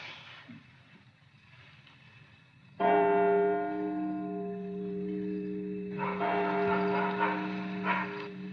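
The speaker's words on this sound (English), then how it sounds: "The Lord and Lady ring the bell after they make it." A manor's bell, rung by hand as an old custom, strikes loud and close after a quiet start, its long ringing tones sustaining and swelling again with a second round of strikes near the end.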